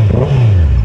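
A Honda CBR650R sports motorcycle engine revs loudly up close, a single short rising then falling roar with a rough, throaty tone.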